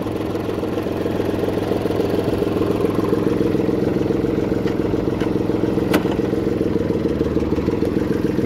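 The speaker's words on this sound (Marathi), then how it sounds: "गुतला आपला ट्रॅक्टर, टाकला रिवर्स, निघला आपला ट्रॅक्टर।" A tractor engine idles in neutral with a steady, close, rumbling drone and a faint mechanical clatter, holding an even level throughout with a few light ticks on top.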